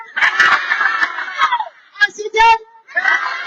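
Crowd shouting and cheering at an outdoor political rally in Sumba, a loud sustained roar of many voices that breaks off, followed by a short burst of single voices and then a renewed swell of crowd noise.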